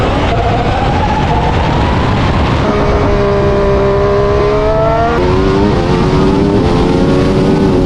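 Loud, continuous engine of a Ferrari race car, its tonal whine rising and shifting pitch as it revs and accelerates through gears, heard alone without talk.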